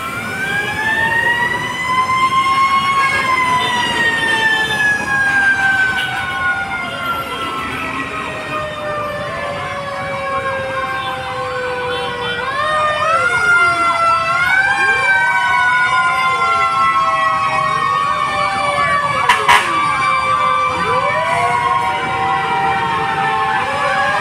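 An Ermita fire truck's siren wails loud and close, long rising and falling sweeps layered with other emergency sirens arriving at a pier fire, continuous for the whole stretch with traffic noise beneath.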